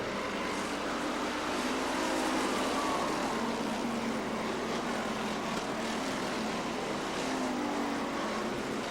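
Steady broadband engine roar of race cars circling a racetrack four wide during a feature race, continuous and fairly loud, with no clear pauses or voices.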